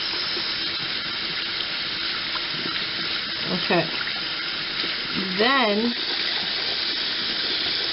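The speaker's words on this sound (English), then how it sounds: "Put it under the water and swirl and swirl and swirl." Makeup brush rinsed under a running tap, a steady loud gush of water into a sink throughout, with someone speaking briefly over it.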